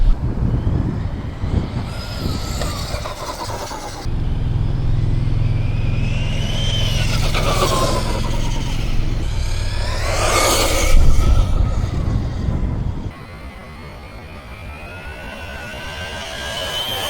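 An upgraded Traxxas Mini Maxx RC truck on a speed run gives a loud, steady electric motor whine that rises and falls in pitch as it accelerates, passes and recedes, with background noise and no talk.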